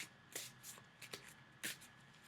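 A deck of tarot cards is shuffled by hand close up, giving several short, crisp riffling bursts at irregular intervals, with no talking.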